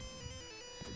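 Synthesized video game music from Light Crusader, a brief and fairly quiet snippet of sustained electronic tones with a buzzy, ringtone-like timbre.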